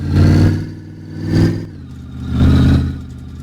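A loud, raw car engine with no exhaust system fitted revs up three times in rising, rasping surges, with an unmuffled exhaust roar close by.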